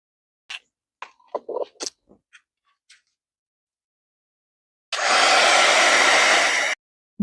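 Hair dryer blowing on a journal page, a loud steady whoosh lasting about two seconds that cuts off abruptly, preceded by scattered small clicks and taps of handling.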